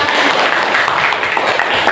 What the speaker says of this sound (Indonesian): Saya kasih tepuk tangan dulu untuk saya kasih.